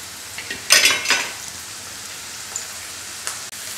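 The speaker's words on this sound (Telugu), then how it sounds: "ఇప్పుడు ఇలా ఉల్లిపాయలు వేగుతున్నాయి కదా" Onions fry in oil for a brownish gravy, giving a quiet crackling sizzle with a brief burst of louder spattering near the start, then settling to a faint hiss with occasional pops.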